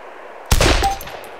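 A single sharp gunshot from a firearm in DayZ cracks loudly out of near silence, followed by a short ringing decay and faint echo.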